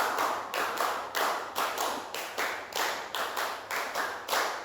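A class claps a rhythmic pattern of five claps three times over, crisp evenly spaced slaps grouped into repeated bursts, loud and close.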